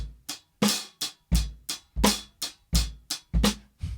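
A drum kit plays a steady beat, with punchy bass drum and snare hits alternating and crisp hi-hat strokes filling between them, close and clear.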